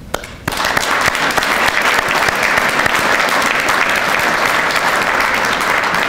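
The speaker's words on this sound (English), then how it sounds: "I give you a round of applause." An audience at a police award ceremony erupts in applause after a brief quiet moment, a full, steady roar of many clapping hands that holds loud and even to the end.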